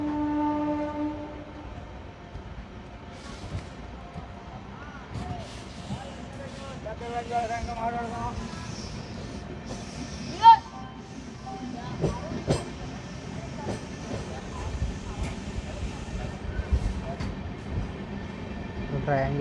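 Seshadri Express pulling out of platform 3 at Chirala station, a low rumbling train departure with faint horn tones and rail noise building gradually, heard from on board with background voices.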